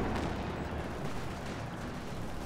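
Artillery barrage in the Company of Heroes 2 strategy game, a steady, fairly quiet rumble of continuous shelling and gunfire with no voices.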